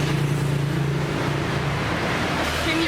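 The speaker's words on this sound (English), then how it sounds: "And it's so loud. It's early morning traffic." Early morning road traffic in Bali, a steady loud wash of engines and road noise with low hum throughout, no voices.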